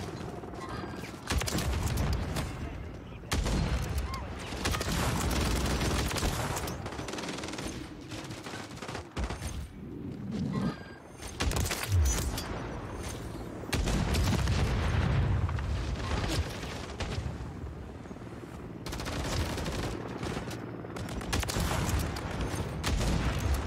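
Dense, loud automatic gunfire from Call of Duty MW3 multiplayer, with near-constant bursts of rifle and machine-gun fire plus occasional booms that run almost without pause for the whole stretch.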